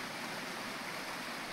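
Water pours steadily at a hidden waterfall on a trek in Upper Kharghar, Navi Mumbai, making a constant, even rushing hiss close by with no voices.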